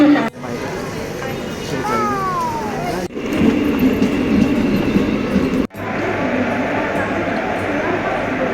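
Local commuter train running on rails, heard from inside as a loud, steady rumble with rattling and brief squeals, broken by a couple of sharp clunks, with voices talking over it.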